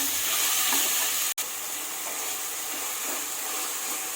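Three tomatoes frying in a pan give off a steady, dense sizzling hiss throughout, broken only by a very brief dropout partway through.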